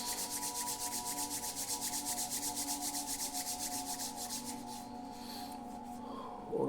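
Two hands rub together vigorously in a rapid, rhythmic scraping swish during a meditation, close and steady before it fades to quiet near the end, with no talking.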